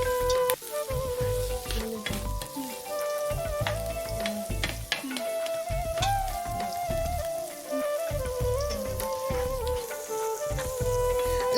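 Tomatoes and spices sautéing in a pan for mutton kola urundai gravy give a steady, close sizzle with small crackles and the occasional scrape of stirring, running unbroken throughout with no talking.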